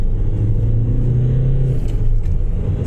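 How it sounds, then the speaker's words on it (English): A BMW car accelerating hard along a road, a loud, close engine roar and tyre rumble that builds and holds for a few seconds as it pulls away, with no speech. "That BMW is fucking quick."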